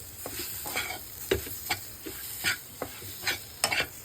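A spoon stirs ground green pea paste with spices in a pan, giving repeated sharp scraping and clinking strokes at an uneven pace over a soft background sizzle, with no talking.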